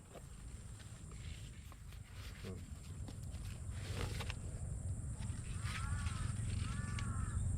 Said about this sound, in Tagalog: Ang kapal po ng uwak.